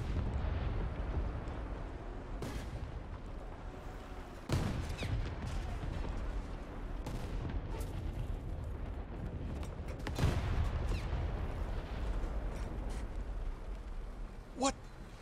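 Explosions rumble through a World War II tank battle video game, with a Sherman tank in play: several loud, broad booms, sharpest at the start and around the middle, rise over steady engine rumble and distant gunfire.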